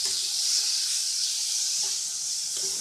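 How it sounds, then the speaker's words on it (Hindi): Frying masala in a pan hisses and sizzles after a splash of water is added, a steady close-up crackling fizz with faint clinks underneath. "मसाला जल ना जाए हल्का सा पानी डाल दिया हमने इसमें।"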